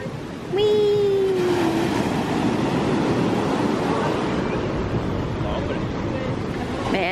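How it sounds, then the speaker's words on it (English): Pacific Ocean surf rolling in at night beside Santa Monica Pier, a steady broadband roar mixed with wind buffeting the microphone, with voices heard briefly over it near the start. "Man, you can see the waves just rolling in."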